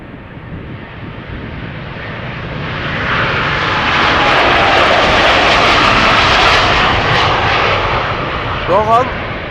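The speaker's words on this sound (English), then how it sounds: "Seven-year-old airplane, first flight June 2016" A seven-year-old Boeing 787 Dreamliner, first flown in June 2016, roars at Schiphol Airport, its engine noise building to a loud sustained peak and easing slightly, with a voice speaking over it.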